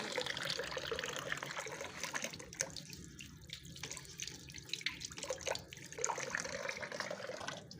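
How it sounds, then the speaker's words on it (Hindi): Town water flows from a pipe into a drum as it fills, with a continuous splashing trickle and gurgle, some drips and brief dips in the flow, close by and without talk. "पहले मैं ना पाइप लगा लेती हूँ, पाइप लगा के भर लेती हूँ ड्राम।"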